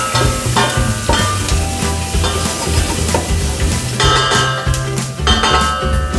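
Onion and garlic sauté in olive oil while a spatula stirs them, a loud steady sizzle broken by repeated scraping strokes and clanks against the pan, close up, no speech.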